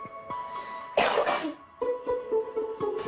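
Several harsh coughs from an adult recovering from a severe coronavirus illness, close and fairly loud, a sharp burst near the start followed by a string of shorter, raspy coughs and throat clearing.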